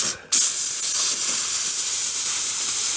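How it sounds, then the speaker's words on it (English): A handheld steam cleaner blasts into the cracks of a W124 car body, cutting in abruptly after a brief lull and then holding a loud, steady, close hiss. "I'm just using my dandy steam cleaner"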